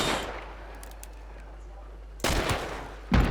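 Pistol shots fired at long range in a shooter video game, two sharp loud cracks about a second apart after a quiet stretch with a low steady hum.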